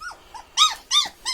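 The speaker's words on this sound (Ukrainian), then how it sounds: "Ух, який злий собака." A small, angry dog lets out a few short, high whining yelps and squeaky barks in quick succession, close by and fairly quiet, outdoors in cold weather.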